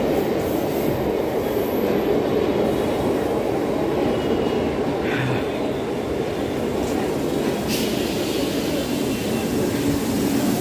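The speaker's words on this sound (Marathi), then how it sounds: "चला ट्रेन आली आहे" MEMU commuter train pulling into a crowded station on the Virar–Dombivli route, a loud continuous rumble and rolling roar filling the whole stretch, close by, with no talk.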